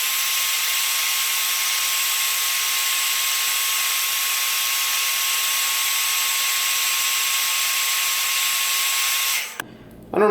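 A heat gun blowing on an AJ Styles action figure head, a constant loud whining hiss with a steady tone, running unbroken for several seconds before it shuts off abruptly.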